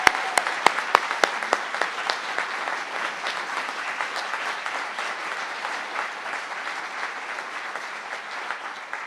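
An audience at a school Year 13 honours ceremony applauds steadily for about nine seconds. A few sharp, loud claps stand out at the start before the clapping settles into a dense, even patter that holds to the end with no voices.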